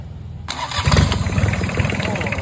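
A Yanmar 3TNE74 three-cylinder 21-horsepower diesel engine starts abruptly after a short silence and runs with a loud, rough, close knocking rhythm that swells briefly before settling.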